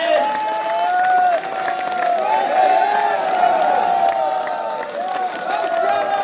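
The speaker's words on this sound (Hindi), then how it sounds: "अब तक थोड़ा सा 2 मिनट तक गड़गड़ाती हुई तालियां राम जी के नाम पर" Crowd at a Ram festival celebration in Kukshi town honouring kar sevaks, applauding and cheering continuously, a dense wash of clapping with voices and tones rising over it throughout.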